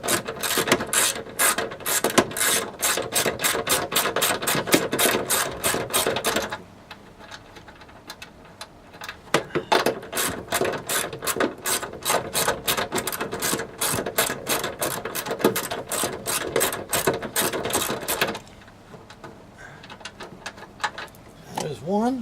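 Ratchet wrench unscrewing the nuts holding the trunk latch on a 2007 Ford Mustang, rapid loud clicking bursts that pause midway and resume, close up with occasional talk.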